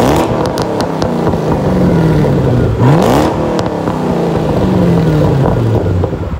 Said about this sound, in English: It's also running a Corsa catback and it sounds amazing.